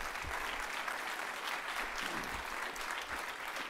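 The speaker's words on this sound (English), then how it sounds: "I think we should give them a round of applause" Steady, dense applause from an audience at a Huntington's disease research Q&A event, sustained and even throughout with no pauses.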